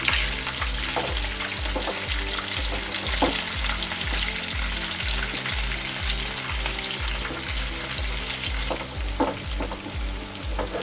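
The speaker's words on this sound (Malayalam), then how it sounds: "റവ ഉണ്ടായതുകൊണ്ട് പെട്ടെന്ന് പുറം മൂക്കും അതുകൊണ്ട് ലോ ഫ്ലെയിമിൽ ഇട്ടിട്ട് തിരിച്ചു മറിച്ച് ഇട്ട് കൊടുക്കണം" Rava-coated anchovies frying in oil over a low flame, a constant dense sizzle with a regular thumping beat underneath, close and steady throughout, no voices.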